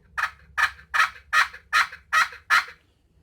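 Electronic turkey call playing a turkey gobble: seven quick, evenly spaced gobbling bursts in a steady rhythm, loud and close, then stopping.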